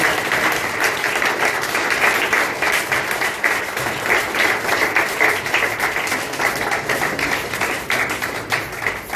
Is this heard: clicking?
no